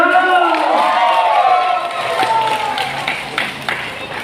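A crowd shouts and whoops with rising voices, then scattered claps and cheers continue at a steady, lively level.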